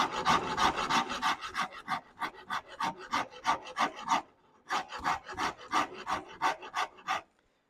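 Wood rasp carving a guitar neck in rapid rhythmic strokes, a close, coarse scraping in even bursts that pauses briefly midway, then resumes before stopping.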